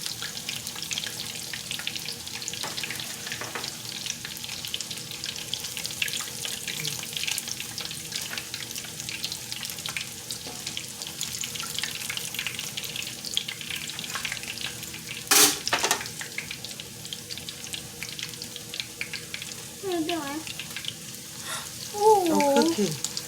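Breaded, double-stuffed chicken legs fry in a pan with a steady, close sizzle throughout, joined by a few brief clatters and faint voices near the end.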